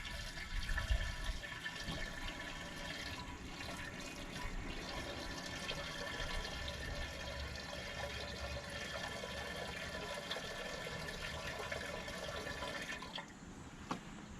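Liquid glugs and splashes steadily from a jug into an old, badly fouled fuel tank being cleaned, a continuous pouring wash lasting several seconds before ending abruptly near the close.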